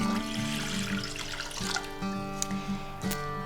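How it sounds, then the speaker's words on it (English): Filtered water runs steadily into a cooking pot on a stove for a one-pot vegan mac and cheese, a continuous close pouring stream with a tap-like hiss and no talking. "you're gonna add 3 cups of filtered water to your pot"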